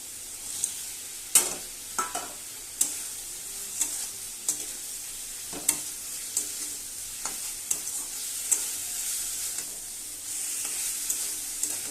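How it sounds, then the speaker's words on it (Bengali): Sliced bitter gourd fries in a pan with a soft, steady sizzle, broken by regular scrapes and taps of a spatula stirring it, with no voices. "উচ্ছে ভাজা উচ্ছেটাকে ভালো করে ভেজে নিয়ে ডালে দিয়েছি"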